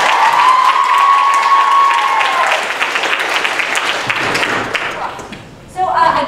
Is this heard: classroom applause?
yes